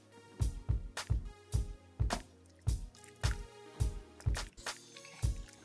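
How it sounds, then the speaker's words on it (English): A chicken mixture is stirred in a pan with a spoon, giving repeated wet, squishy scrapes and clacks in a steady rhythm, close and fairly loud. "I'm gonna stir this around for a little bit."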